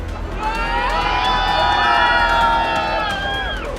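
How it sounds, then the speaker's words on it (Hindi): Panicked passengers scream and shout together inside the cabin of the out-of-control Aeroflot Nord Flight 821 airliner, a dense chorus of high wailing voices over a steady rumbling background. "बेकाबू हुए प्लेन के अंदर लोग डर के मारे जोर जोर से चिल्ला रहे हैं"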